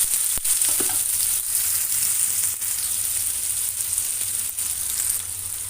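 Onion fries in oil with cumin in a kadai, a steady, close hiss of sizzling that runs throughout, broken by a few brief scrapes or taps of a spoon.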